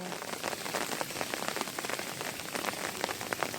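Monsoon rain patters densely onto water in a steady, close hiss of countless drops, even and unbroken for a few seconds.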